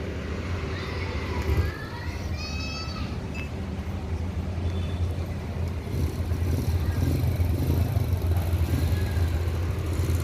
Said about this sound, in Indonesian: bus akan keluar lagi nih.